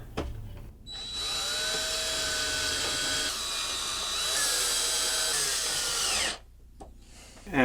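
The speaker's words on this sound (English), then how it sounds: "And then we can screw this back in." A power tool drives a screw back in during an RV cell signal booster install, a close, steady whine that holds for about five seconds with a slight pitch change before stopping.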